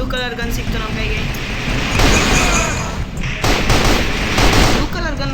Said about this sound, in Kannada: ಬ್ಲೂ ಕಲರ್ ಗನ್ ಒಂದು ಫಾಸ್ಟ್ ಶೂಟ್ ಮಾಡ್ತಾ ಇದೆ